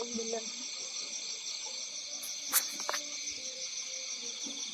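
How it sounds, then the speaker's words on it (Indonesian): Crickets chirp steadily in a forest at night, a dense continuous high trill filling the whole stretch, with faint rustling and a brief louder insect burst midway. "Suara jangkrik."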